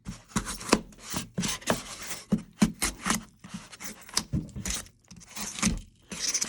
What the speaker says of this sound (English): I'm literally just going to go in and stab and pry out chunks like so.